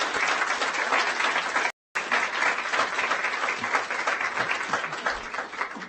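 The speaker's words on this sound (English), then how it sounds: "If we could all give them a little round of applause." Sustained round of applause from the audience at a school district board of trustees meeting, steady dense clapping filling the room, with a brief dropout midway.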